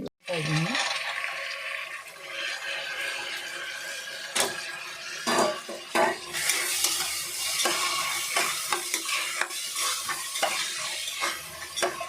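Lentils roasting in a pan until brown, busy dry sizzling mixed with repeated scraping stirs and clinks of a spoon against metal, close and continuous with no talk.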